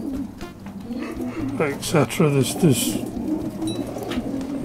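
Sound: pigeon cooing

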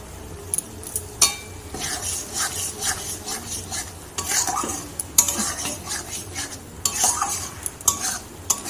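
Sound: stirring the ghugni filling in a pan until it firms up

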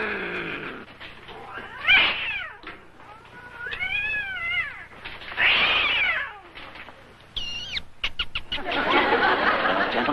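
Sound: cartoon cat in a cage with a mouse

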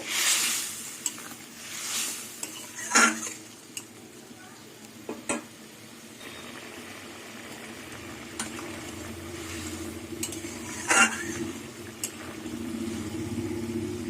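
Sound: fried small fish simmering in curry sauce

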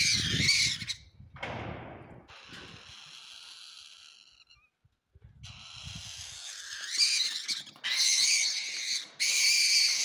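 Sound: owl squawking in a fight with a three-banded armadillo

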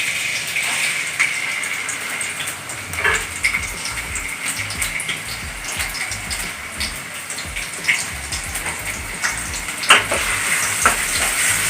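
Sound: chopped ginger and garlic sizzling in hot coconut oil

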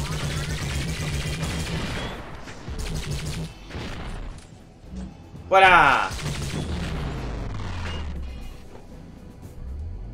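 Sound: gunfire and explosions in EPOCH video game

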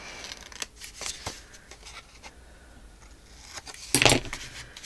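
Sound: scissors trimming paper pocket corners

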